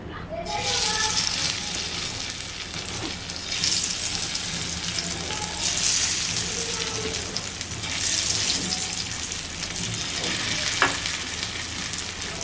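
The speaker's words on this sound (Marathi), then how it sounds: "तवा गरम झालेला आहे तेल टाकते" Oil for tandoori prawns sizzles on a hot tawa with a steady, close hiss that swells and eases in waves. A voice talks faintly underneath.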